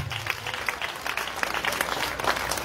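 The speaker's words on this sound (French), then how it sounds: "Dale un aplauso al Señor." Sustained applause from a church congregation clapping for the Lord during a service, steady and fairly distant throughout, with dense overlapping claps and crowd noise.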